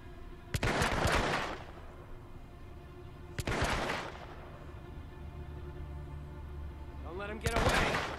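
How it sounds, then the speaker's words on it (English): Gunfire in the stealth game Hitman: Absolution, with three sharp bursts of shots spaced a few seconds apart over a steady game ambience and low background hum. "Why are you shooting at me?"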